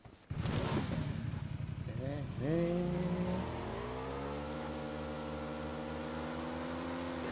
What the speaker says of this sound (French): On va prendre une moto pour aller à la zone